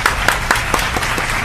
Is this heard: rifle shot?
no